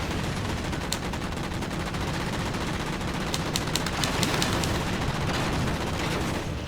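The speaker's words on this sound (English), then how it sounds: "there's some turrets that are shooting" Turrets firing in Halo 4 gameplay: a dense, steady barrage of gunfire that runs unbroken throughout, with sharper bursts clustering in the middle.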